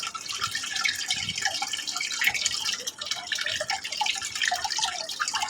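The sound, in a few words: washing ripe mangoes in water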